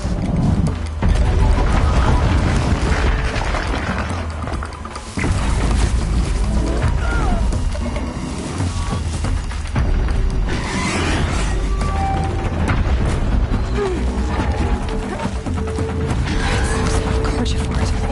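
Robotic machine creatures in Horizon Zero Dawn attacking near sandstone rock, heard as a loud, continuous churn of mechanical whirring, ratcheting and grinding with occasional tonal whines, filling the scene throughout.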